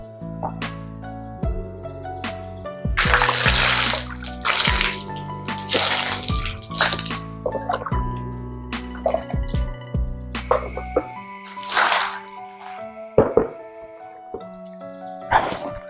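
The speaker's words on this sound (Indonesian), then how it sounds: "Jadi saya cuci muka ya sebentar ya." Spring water at Ontrowulan splashes in repeated handfuls as someone washes their face, close wet sloshes and spatters in bursts followed by scattered drips, with no talk.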